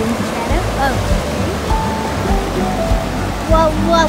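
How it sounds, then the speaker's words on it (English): Fast-flowing river rapids roar as a steady, loud broadband rush of water throughout, with voices talking over the continuous torrent. "Why is the river going so fast?"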